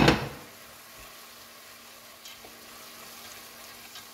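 Drained lentils being stirred into browned meat in a pot for Moroccan harira: a loud clatter at the start, then a soft, steady sizzle with faint scraping as the mixture is stirred.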